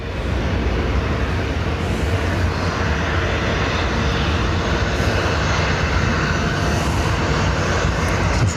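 Ryanair jet arriving at Dublin airport from Amsterdam, a loud, sustained broadband engine roar that holds steady for the whole stretch, close and dominant with no talking.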